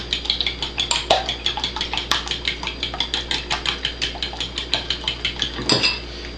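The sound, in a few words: stirring four eggs in a bowl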